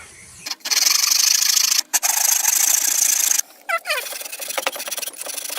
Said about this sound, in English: I'm going to saw off a rounded edge